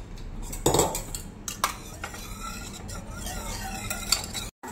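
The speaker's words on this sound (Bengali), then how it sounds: "তারপরে একটু একটু দুধ পাউডার দিয়ে দিয়ে নাড়াতে থাকবে।" Milk powder is stirred into hot water in a pot over a low flame, heard as a spoon scraping and clinking against the metal in irregular close strokes over a faint simmer, with no voices.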